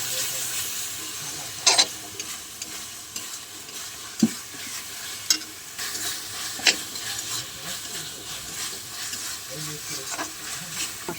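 Masala spice paste sautéing in oil in a pan, a steady nearby sizzle punctuated by sharp spoon scrapes and clinks against the metal at irregular intervals.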